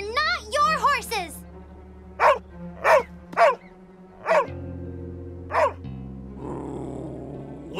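A cartoon dog growls and barks in short, sharp yaps, about half a dozen spaced barks after an opening whimpering whine, with a low growl running under them near the end.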